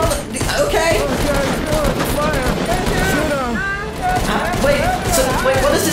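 Rapid bursts of gunfire fill a Fortnite firefight, dense and continuous, mixed under excited voices talking over the shooting.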